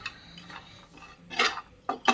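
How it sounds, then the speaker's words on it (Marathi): A spoon scrapes over grated coconut roasting in a pan, making a few soft scuffs and then two louder clattering strokes near the end. "इथं आपण थोडंसं खोबरं भाजून घेऊ"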